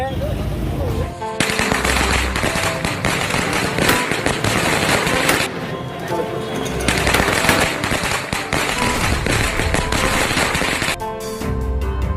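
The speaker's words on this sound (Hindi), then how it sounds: "बीआरएस के लीडर सैयद रियाज ने आतिशबाजी करते हुए उनका शानदार इस्तकबाल किया" Dense, loud crackling bursts of firecrackers and fireworks set off to welcome a political leader in Nanded, rattling continuously for most of the span with brief pauses, faint voices beneath.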